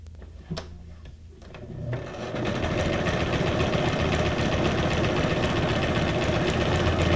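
Sewing machine running a straight stitch on fabric for junk journal ephemera, a steady mechanical whir that starts after a few soft handling clicks and holds loud and continuous to the end.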